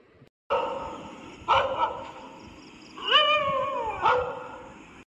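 Cartoon dog barking and whimpering alone in a rural village scene, a few separate yelps and whines with a rising, wavering cry partway through, fairly close and clear.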